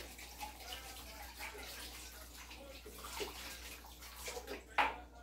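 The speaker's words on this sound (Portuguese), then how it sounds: "Vou começar a lavar esses pratos pra mim." Dishes being washed by hand in a home kitchen sink under a running tap, a steady soft wash of flowing water with faint splashes and one brief clink near the end.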